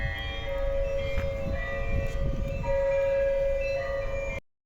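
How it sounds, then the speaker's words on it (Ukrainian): Church bells ringing with a sustained metallic tone over low rumbling background noise, somewhat distant, before the sound cuts off abruptly. "Чуєте, як дзвони дзвонять?"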